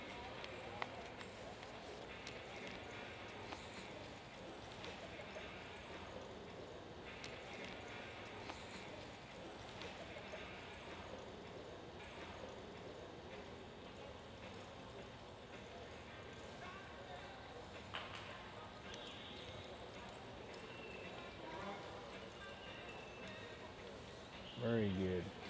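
A cutting horse, a promising young sire, runs and works cattle in an arena, hoofbeats thudding steadily under continuous commentary and background chatter throughout.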